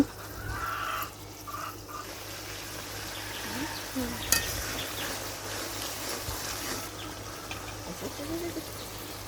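Hilsa fish sautéing in a pan gives a soft, steady sizzle with occasional stirring scrapes and small clinks, fairly faint and close, with no talking.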